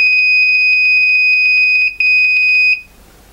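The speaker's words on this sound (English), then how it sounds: "we are finally at 50 degrees and the alarm went off" A digital power supply's over-temperature alarm sounds a loud, piercing, steady electronic tone with a brief break, then cuts off abruptly, leaving quiet.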